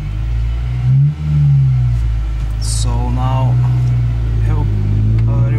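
Idling manual car on a hill, pulling away as the handbrake is released, with a steady low engine hum that swells slightly near the start while someone talks over it close by.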